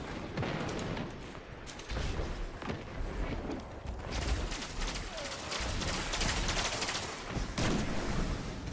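Rapid gunfire from a Destiny 2 PvP match, dense bursts and cracks of sniper rifle and other weapon shots in steady, loud succession, with no voices.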